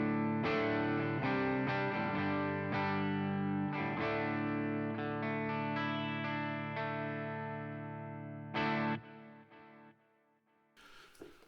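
Clean electric guitar through the Boss GX10's X-Crunch amp model on an all-purpose clean channel, playing a steady run of bright picked chords and notes that ring on, then fade out near the end.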